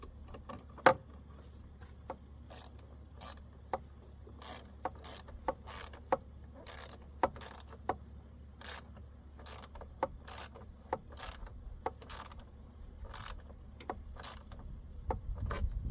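Ratchet wrench tightening a bolt on the radiator fan of a 2013 Ford Edge, a long run of sharp, evenly spaced clicks, close and crisp, with no talk.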